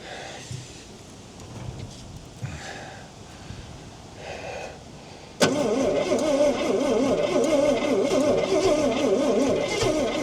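A 1968 Ford Falcon, parked since 1990, cranks with a few labored starter turns, then suddenly fires and settles into a loud, steady, rough idle.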